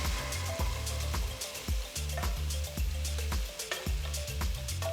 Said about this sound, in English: Saute the tomatoes for 5 minutes.